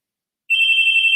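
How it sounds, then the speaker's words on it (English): Door buzzer goes off after half a second of silence, a loud steady electronic tone that holds unbroken to the end. "Oh, that's the buzzer."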